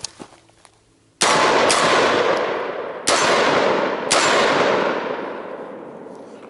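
Shots from a 7.5-inch AR-15 rifle, three loud sharp reports roughly a second or two apart, each ringing out and decaying into an open outdoor echo.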